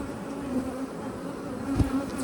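Honey bees hum steadily at an under-built backyard beehive, a close, continuous drone with a few louder passing buzzes.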